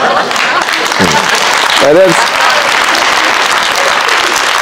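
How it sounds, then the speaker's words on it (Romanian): Loud audience applause at a stand-up comedy show, a dense crowd clapping throughout while the comedian speaks a short word over it. "Și voi aplaudați la Maldive"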